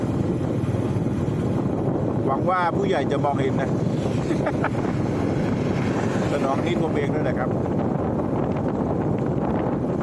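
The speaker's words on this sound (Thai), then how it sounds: "ลมแรงมากเลยนะครับ" Strong wind buffets the microphone at a roadside construction site where a machine levels the ground, a constant loud rumble running through the whole stretch under a voice.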